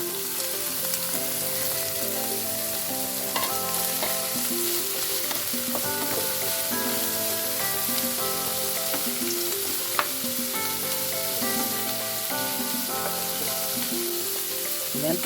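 Cabbage being stir-fried in a pan for pancit canton, a constant hissing sizzle heard beneath steady background music, with occasional faint scrapes; no talking.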